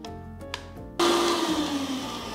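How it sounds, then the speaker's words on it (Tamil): Mixer grinder starts up abruptly after a quiet moment, grinding green chillies with a loud, steady whirring motor drone that holds on without a break. "மிக்ஸில் போட்டு அடி"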